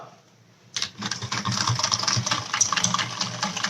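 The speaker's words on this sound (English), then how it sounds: "I will just whisk it all up" Steady, brisk whisking of a cream, milk and gelatin mixture in a bowl, starting after a short pause and continuing as a dense, close, rapid scraping rattle with no talk.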